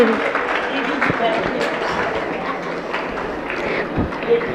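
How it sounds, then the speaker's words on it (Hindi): An audience at an event at a retreat centre applauds with sustained, dense clapping that holds at an even level throughout, a few sharper claps standing out near the end. "जोरदार तालियां इनके लिए"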